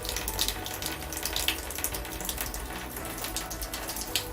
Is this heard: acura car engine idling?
no